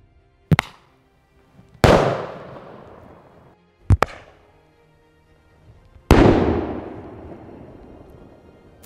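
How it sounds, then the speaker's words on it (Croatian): A pyro pistol fires four loud blank shots, each a sharp crack with a long, ringing decay, spaced unevenly across several seconds with no voices. "Sad testiramo pucnjavu, unutra sam napunio mecima pištolj, crna strana ide prema unutra i obavezno prema zraku."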